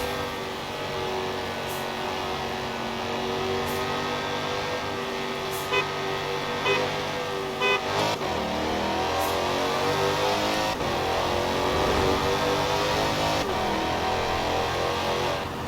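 Dodge Challenger Hellcat Redeye Widebody in Forza Horizon 4 accelerating from 60 to 130, a loud, steady engine roar climbing in pitch with several quick gear shifts breaking the rising drone, no voices.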